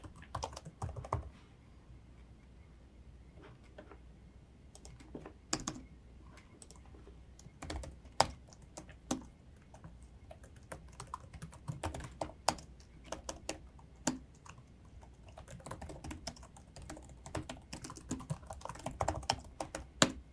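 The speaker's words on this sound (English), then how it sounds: "we're all just typing right now" Rapid, irregular clicking of keys on a computer keyboard, fairly close and quiet, with bursts of typing and short pauses, no talking over it.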